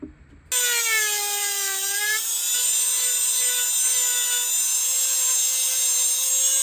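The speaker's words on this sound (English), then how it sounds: "All the trimming is done with a Dremel." A Dremel rotary tool whines at a high, steady pitch as it cuts and trims a plastic Traxxas box for a Nitro T-Maxx 2.5 build, starting abruptly and then holding loud and close without voices.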